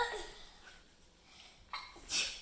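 One sharp sneeze bursts out near the end after soft breathy sounds, fairly close in a quiet room.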